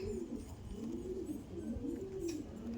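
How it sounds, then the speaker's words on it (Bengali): A male Andhra pigeon coos in a soft, repeated rolling pattern, low and fairly close, with a faint ambient background and no speech. "দেখুন, এটা হলো মেল পায়রা।"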